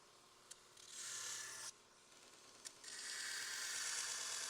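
A 2x42 belt grinder hisses as knife bevels are ground freehand, two bright abrasive passes, each starting with a small click, over a faint motor hum.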